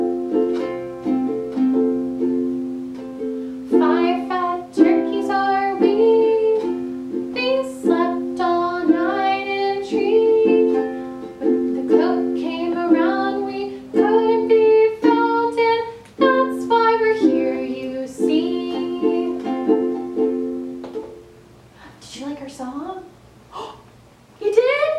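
Children's song about five fat turkeys, sung by a single voice with a bouncy melody in short phrases over a quiet steady hum, with breaths between lines.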